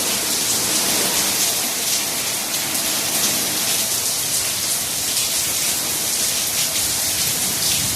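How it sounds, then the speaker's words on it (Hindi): Steady rain pours down, a dense hiss of drops striking surfaces, constant and fairly loud for the whole stretch with no voices. "यहाँ तक बारिश आई है।"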